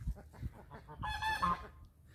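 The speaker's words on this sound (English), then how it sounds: "Oh, the geese are saying hello." Geese honk in a short burst of nasal calls, moderately close, with faint rustling background and no speech.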